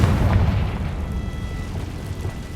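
Bombarda and Confringo spells from Hogwarts Legacy burst in a deep, rumbling explosion that rolls on and slowly fades, loud and heavy with no voices over it.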